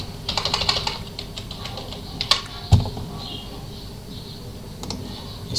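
Computer keyboard typed on to log a user into a system, heard as sparse, quiet key clicks close by, in short scattered runs with a couple of sharper taps.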